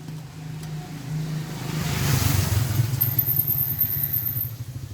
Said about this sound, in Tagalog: this is the engine of F10A